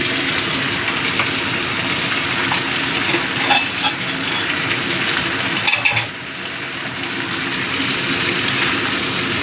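Ginger-cumin paste stirred and fried in a pan for a parshe fish curry with potato and taro: a steady, close sizzle of hot oil runs throughout, with a brief dip in intensity about two-thirds through.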